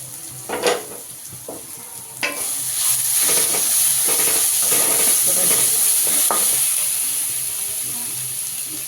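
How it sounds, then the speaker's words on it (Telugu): A paste of onion, garlic and cumin is dropped into hot oil for a Konaseema Godavari crab curry, then fries close up with a steady loud sizzle and hiss, broken by a few scraping stirs. "ఉల్లిపాయ ఎల్లుల్లిపాయ జీలకర్ర ఈ ముద్దను తీసుకెళ్ళి ఈ మరిగే నూనెలో వేసి బాగా వేగనిద్దామండి, బ్రౌన్ కలర్ వచ్చేలాగా"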